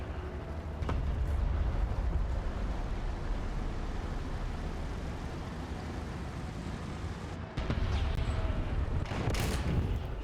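Artillery barrage in a tank video game, a dense rumbling roll of heavy explosions and gunfire that continues throughout. It drops off briefly, then bursts back louder with sharp nearby blasts, with no speech.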